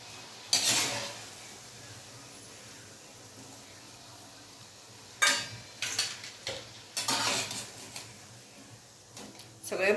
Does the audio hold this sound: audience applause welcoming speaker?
no